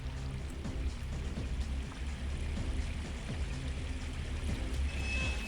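A game character wading into water in the original Unreal video game, with a steady, fairly faint wash of splashing and sloshing, small drips and ripples running continuously and evenly.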